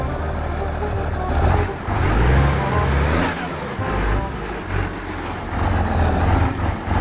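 A heavy farm vehicle engine from Farming Simulator 22, part of a forage harvester setup with a discharge spout loading a truck, runs loud and close, rising and falling in steady mechanical drone with brake hisses and beeps.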